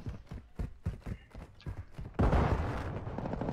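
Rapid shotgun-style gunfire from the video game Call of Duty Warzone: a quick run of sharp, punchy shots, then a louder burst of blasts and rumble toward the end.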